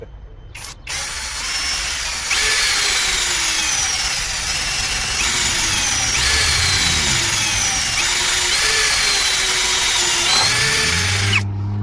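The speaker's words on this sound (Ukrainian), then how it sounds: "Давайте також спробуємо просверлитися." A Procraft PA 18 cordless drill bores a 4 mm hole in metal with a cobalt bit, a loud, steady whirring grind running for about ten seconds with slight pitch shifts as the bit bites, ending in a brief winding-down whine.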